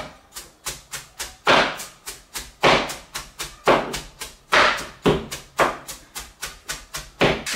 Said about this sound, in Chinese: 咱们给它剁一下。